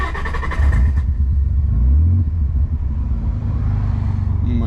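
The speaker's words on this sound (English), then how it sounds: "we're going to start the car up" A Nissan 300ZX twin turbo starts up, with a short cranking whir, then the engine catches with a loud rev and settles into a steady low idle rumble, close by.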